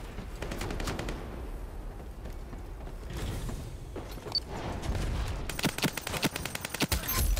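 Automatic weapon fire in Modern Warfare 2 gameplay, rapid bursts of gunshots with mechanical clatter and creaks, sparse early then a dense sustained rattling burst near the end, no talking.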